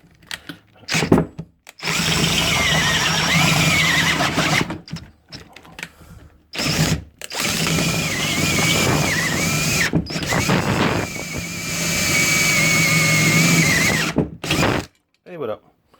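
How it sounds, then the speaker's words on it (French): A drill bit boring out a lower suspension-arm rivet, running in long whining bursts with shrill squeals, briefly stopping and restarting, with a moment of talk between runs. "Donc vous percez jusqu'à quand vous venez cisailler le rivet"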